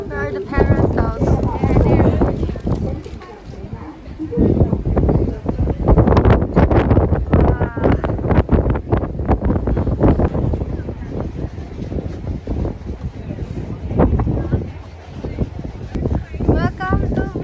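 Strong gusting wind buffets the microphone high in the mountains at Sapa, Vietnam, a loud continuous roar under people talking close by.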